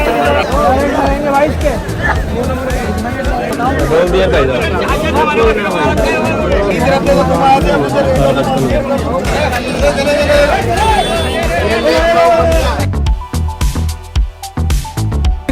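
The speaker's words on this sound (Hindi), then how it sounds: "खतरनाक भीड़ हो रखी है" A dense crowd packs Chor Bazaar market in a loud, continuous babble of overlapping voices close around, with occasional nearby talk standing out before the din thins and breaks up near the end.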